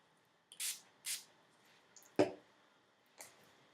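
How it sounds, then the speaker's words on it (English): Two short, soft hissing sprays from a pump bottle, followed by a light tap and another faint spray in a quiet room. "I'm also going to spray the brush."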